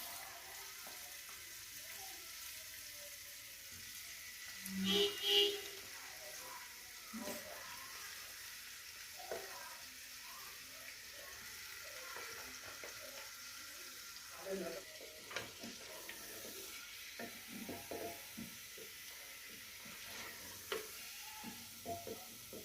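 Chicken fries in garlic in a karahi, giving a soft, continuous sizzle with scattered clinks and stirring knocks, a couple of louder bumps early on.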